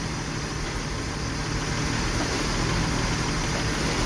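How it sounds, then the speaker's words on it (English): A 1995 BMW E36 320i idles steadily at close range, a continuous low engine rumble with a faint surging rise and fall in revs, suspected coil pack fault, no talking. "the RPM is going up and down, and you can listen to that"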